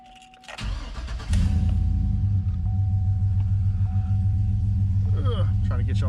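A Chevy 2500HD pickup engine cranks briefly, catches and settles into a loud, steady rumbling idle close by, with a faint tone and light clicks over it.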